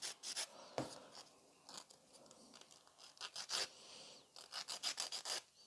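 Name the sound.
nail file thinning gel nail free edge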